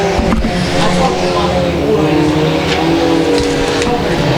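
Four-cylinder race cars running a heat at Boothill Speedway, a dense, loud, continuous blend of engines droning and revving around the track, with a voice faintly underneath.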